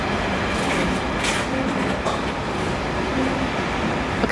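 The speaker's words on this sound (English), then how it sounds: "we got a freight train going past," Continuous rumbling roar of a freight train rolling past a station platform nearby, with faint squeals and rattling, steady in loudness throughout.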